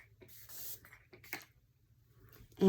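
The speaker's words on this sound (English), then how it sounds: "I'm just gonna spray it on my face" Makeup setting spray misted onto a face, heard as a few short airy hisses from a pump bottle close by, faint and quiet, ending with a brief louder burst.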